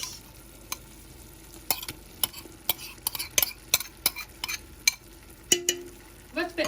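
Celery goes into browning meat for Moroccan harira soup, with a utensil scraping and clacking against the pot in irregular sharp strokes over a low sizzle, close and distinct.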